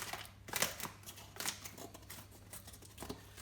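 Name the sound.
scissors cutting plastic bag valve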